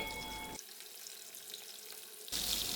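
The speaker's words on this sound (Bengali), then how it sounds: "তেল ভালোভাবে গরম হয়ে এলে এবার মাছ দিয়ে দিচ্ছি মাছ দিয়ে নাড়াচাড়া না করে প্রথমে এক পাশ ভালোভাবে ভেজে নিতে হবে" Fish frying in hot oil in a pan while cooking a spinach fish dish, with a steady close sizzle that drops low midway and then surges loud again near the end.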